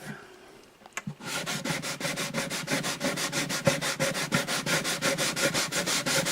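Close, rhythmic scratching of sandpaper rubbed back and forth on the wooden bridge of an Alvarez AD65 acoustic guitar, light, steady quick strokes after a brief quiet start.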